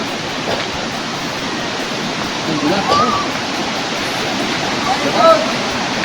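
River water rushes steadily over rocks at Mabato River, a broad continuous wash of flow, with a few faint whistles or birdlike chirps and some background voices at a picnic spot.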